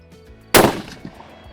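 A single sharp rifle shot from a Savage Axis XP in 6.5 Creedmoor firing Hornady ammunition cracks loud and close, then trails off in a brief echoing decay.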